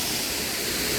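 Rainbow Falls waterfall in Gorges State Park: a dense, continuous roar of falling water, steady and full, with no voices or other sounds.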